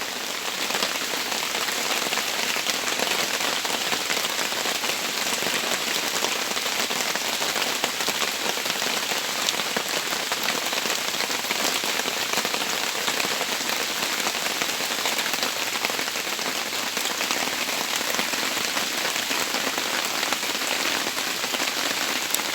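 Steady, dense rain pattering on a surface, a constant hiss with no breaks and no voices throughout.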